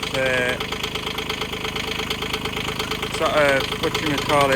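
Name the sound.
engine running after service, started first turn of key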